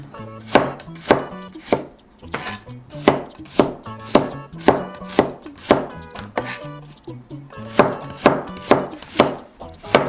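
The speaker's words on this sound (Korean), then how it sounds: "마늘은 편으로 썰어줍니다" A knife slicing garlic cloves into thin pieces on a cutting board, a loud, close, steady run of sharp chopping taps, roughly one to two per second with brief pauses between bursts.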